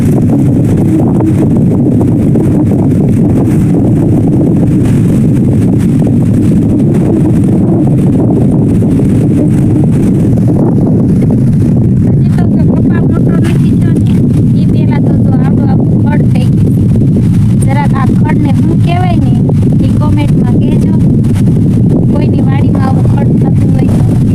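Strong wind buffets the microphone throughout in an open farm field, a steady loud rumbling roar with people talking over it.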